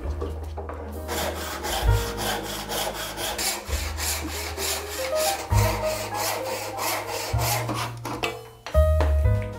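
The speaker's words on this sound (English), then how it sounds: "I will do a relief cuts." A hand saw makes relief cuts into a wooden tobacco pipe blank with rhythmic back-and-forth rasping strokes, close and steady for several seconds, with no speech.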